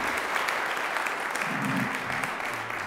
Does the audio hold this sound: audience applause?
yes